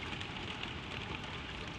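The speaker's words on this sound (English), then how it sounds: "the rain runs down the glass" Steady soft patter of rain against window glass, a continuous even wash of fine droplets, fairly quiet and close with no other sounds.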